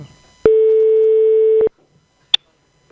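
A single steady telephone ringing tone on a call sounds for about a second, then stops, followed by a short sharp electronic blip.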